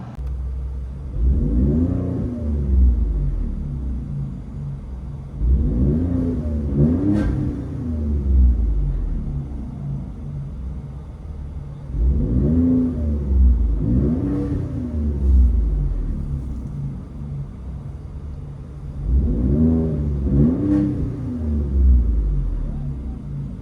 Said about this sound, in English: Ford Raptor with BORLA Attack and X-Pipe for your viewing pleasure.